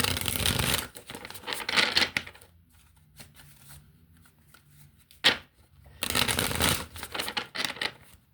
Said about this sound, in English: I'm going to grab 3 cards from this deck.